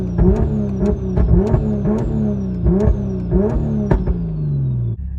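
BMW B58 engine, fully warmed up, revs in rapid repeated throttle blips, each a loud sharp rise and fall with crackling exhaust pops, about two per second, close and alone.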